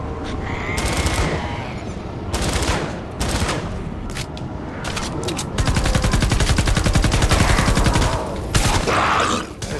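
Gunfire in Fortnite Save the World, loud bursts of rapid automatic shots and single cracks in quick succession, with a long sustained volley in the second half and brief gaps between shots.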